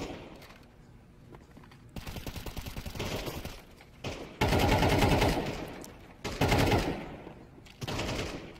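Gunfire in the video game Counter-Strike 2, loud bursts of automatic weapon fire in several rapid volleys separated by brief pauses, close and dense, with no talk over it.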